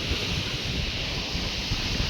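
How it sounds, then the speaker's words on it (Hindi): Strong wind blows hard and steadily during a heavy rainstorm outdoors, a loud continuous roar of gusting air buffeting the microphone with no pauses. "ये इतनी गंदी हवा चल रही है"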